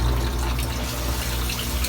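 Water flows steadily into a hydroponic grow system's water barrel that holds aerators, a constant close rushing splash with no break.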